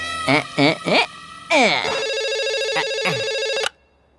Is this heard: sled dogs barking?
no